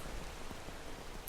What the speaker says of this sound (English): Oh, and it's raining, so that's why we're wet too.